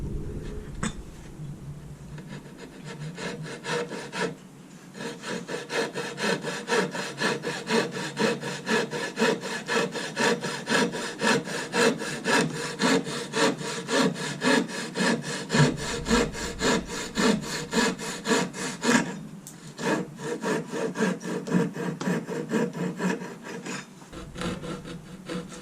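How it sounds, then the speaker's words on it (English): Coping saw cutting through wood for a carving, with steady rhythmic back-and-forth strokes, close and loud throughout, with two brief pauses between bursts. "The more you can take off with a coping saw, the easier it is for you to rasp."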